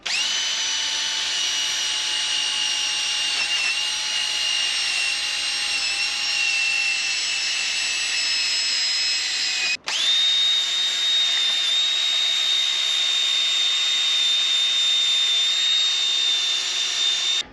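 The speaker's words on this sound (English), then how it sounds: "And I just use the drill on it." An electric power drill runs continuously, spinning a fine Brillo pad to scrub the surface of a thermostat housing on a 1968 Chevrolet Suburban. A loud, high whine holds steady with a brief cut-out about midway before resuming.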